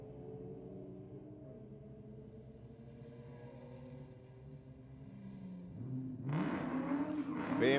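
A Holden Commodore drag racing a BMW at a strip, engines droning low and steady at a distance before a louder roar surges in near the end, with people talking over it.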